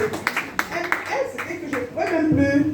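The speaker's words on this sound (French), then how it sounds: "Applaudissez pour moi-même." Audience at a French health presentation claps in short scattered bursts, moderately close, over talking and speech.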